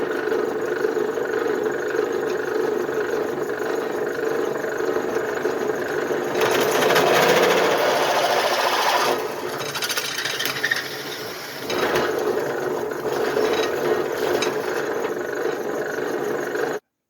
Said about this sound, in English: drill these out to 7/16